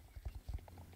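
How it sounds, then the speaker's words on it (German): Horse hooves clip-clop at a steady riding pace in the online game Star Stable Online, a few soft low thuds in quick succession, close and fairly quiet. "dass wir jetzt gerade noch hoch zu Mario reiten"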